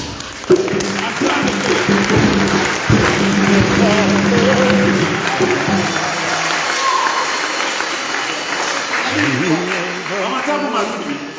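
A church congregation applauds and cheers in praise during an evening service, a dense, loud wash of clapping and voices that holds steady throughout, with singing or vocal tones woven in.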